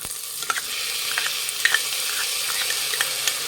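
Washed rice tumbling into a hot pan and frying for sweet pongal, a steady close sizzle with scattered scraping stir clicks throughout, no voices.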